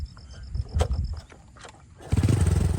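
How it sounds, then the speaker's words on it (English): A motorbike on a red dirt road, with clicking and fumbling noises before its engine starts and picks up to a steady, close, loud running sound. "The engine started, and they sped off down the red dirt road"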